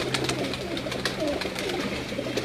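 A double pigeon coos close by in soft low murmuring bursts over a faint steady hum, with no voices.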